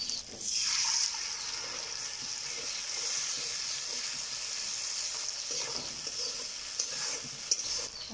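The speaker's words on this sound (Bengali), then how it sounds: "এই সর্ষে পোস্ত বাটাটা এবারে ঢেলে দেবো।" Mustard and poppy seed paste, thinned with water, is poured into a hot pan for a rui fish curry. It brings a steady, close, hissing sizzle that swells early and then holds evenly throughout.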